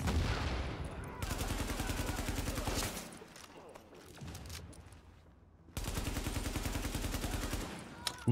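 Sniper rifle fire and other gunfire in Tom Clancy's The Division arrive as sustained loud volleys, one from about 1.2 to 3 seconds and another from 5.7 to 8 seconds, with quieter scattered shots and ambience between.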